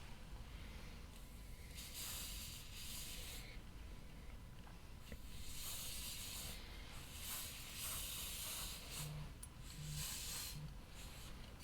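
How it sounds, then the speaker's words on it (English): Hairspray sprayed onto styled hair in a few soft, hissing bursts separated by short pauses, fairly quiet and close, with no talking. "I'll spray the heck out of it with more hairspray"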